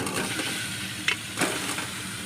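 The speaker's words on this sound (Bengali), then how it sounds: "এঁচড় আলু সেদ্ধ আর এটা আদা রসুন পেঁয়াজ টমেটো কষা হচ্ছে" Jackfruit, boiled potato, ginger, garlic, onion and tomato frying in a pan, a steady low sizzle with a couple of brief stirring scrapes, close by and alone.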